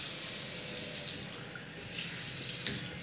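A kitchen mixer tap runs hot water in a steady, continuous stream that dips briefly in the middle and then returns to full flow, with no talking.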